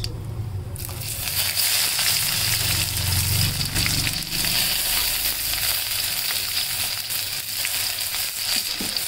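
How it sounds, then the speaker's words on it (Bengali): Two medium-sized chopped onions frying in oil with other ingredients for a homemade mutton fat ghugni, a loud steady sizzle with scraping stirring throughout, close and continuous. "তার পেঁয়াজটি সম্পূর্ণ নেড়ে নেড়ে ভালো করে ভেজে নেব।"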